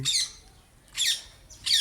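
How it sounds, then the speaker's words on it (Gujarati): Small birds, sparrows and parakeets among them, give three sharp, shrill squawking calls in quick succession, close by and loud against quiet surroundings. "જો આ બધા પક્ષી કિલકિલાટ ઉડી ગયા"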